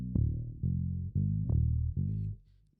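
Electric bass guitar with its high end cut away by a mixing-desk filter thumps out a handful of deep, muffled notes in an uneven rhythm, dull and boomy, then fades out.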